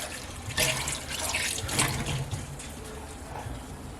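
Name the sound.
draining pickles in the sink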